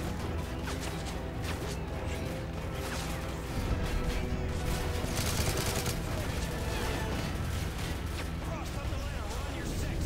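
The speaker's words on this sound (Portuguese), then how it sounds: "Olha onde tá vindo o tiro." Gunfire in Call of Duty Modern Warfare 3: dense, continuous bursts and crackling shots blend into a loud wash of battle noise for the whole stretch, with a faint voice underneath.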